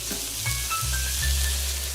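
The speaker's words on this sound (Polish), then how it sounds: "to już zaczyna nam tutaj wspaniale wrzeć i się gotować" Cabbage soup beginning to boil in a pot, a continuous sizzling, bubbling hiss with a few soft clinks and low thuds, close and steady.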